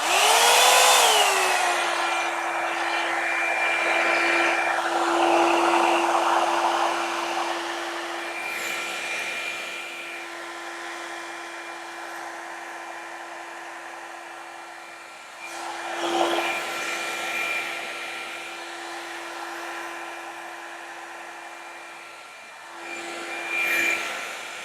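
Hot Tools Black Gold Volumiser blow dry brush running on its lowest setting through thick hair, a steady close whirring drone with a whining tone, brushing rustles and slight shifts in pitch as it moves.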